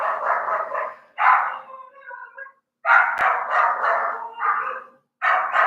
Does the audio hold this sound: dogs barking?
yes